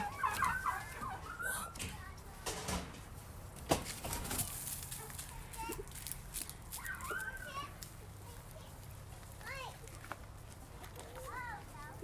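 Chickens gobble and cluck in short bursts while a child and an adult talk nearby.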